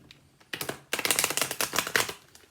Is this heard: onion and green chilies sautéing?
no